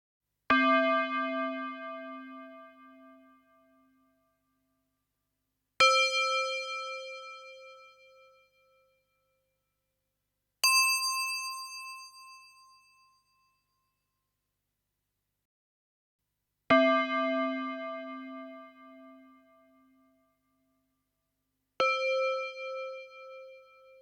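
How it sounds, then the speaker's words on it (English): A Yamaha DX7 FM synthesizer plays a tube bell patch with a sharp, solid attack: five separate struck bell tones, each rich in harmonics, ring out and decay slowly, spaced several seconds apart at alternating pitches. "we've made the tube bell sound with an expressive sharp and solid attack tone and harmonic rich overall sound"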